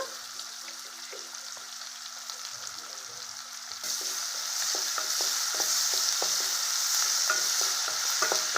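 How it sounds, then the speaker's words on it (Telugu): Sliced onion frying in oil with ginger-garlic paste, a steady broadband sizzle that grows louder partway through, punctuated by repeated scraping ticks of a spatula stirring the pan, close and without voices. "ఇలా బాగా ఫ్రై చేసుకోవాలి ఉల్లిపాయని కొంచెం అల్లం వెల్లిపాయ పేస్ట్"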